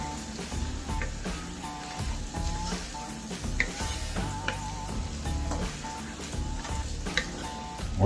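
A stick of butter melts in a pan, giving a steady soft sizzle and crackle throughout, with faint clinks and stirring sounds over the hiss and no talking.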